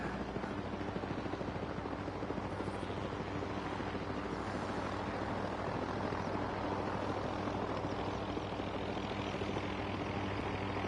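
A helicopter hovers above a base in the video game Expeditions, its rotor and engine making a steady, unbroken drone that stays at constant loudness with no talk.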